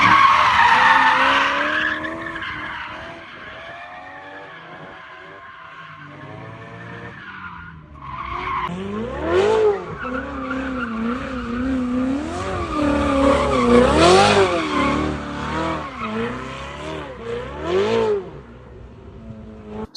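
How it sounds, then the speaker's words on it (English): A drifting car skids with loud tire squeal over a revving, rising and falling engine. The screeching swells and surges in waves with no talking. "when you are wanting to drift a car"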